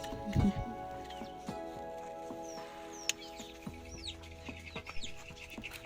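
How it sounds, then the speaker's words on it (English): Chickens cluck and chirp outdoors in a kitchen garden, with intermittent soft bird calls over a steady background hum and a brief louder knock near the start. "I'm also out here checking out on my newly hatched chicks."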